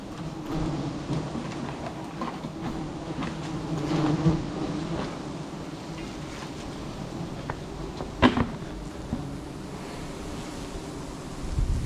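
A dense swarm of giant honeybees hums around a low-hanging nest being scraped away outdoors, with a steady low buzz, soft background rustle and a brief knock midway.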